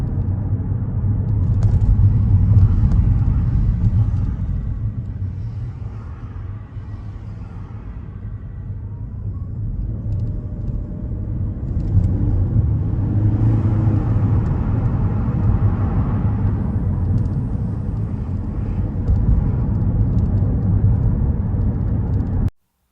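Car accelerating harshly on a 30 mph road during a mock driving test, heard from inside as a steady engine and road rumble that swells and eases, with no talk.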